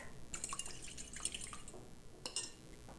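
Warm milk poured into eggs in a bowl for popovers, faint close liquid drips and splashes with a few light glassy clinks, quiet and brief, without talk.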